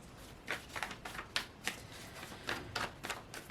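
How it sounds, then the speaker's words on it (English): Quick, papery tarot card shuffles, a run of crisp riffling bursts at an irregular rhythm, close and fairly quiet with no talking. "I'm just going to shuffle this a couple more times."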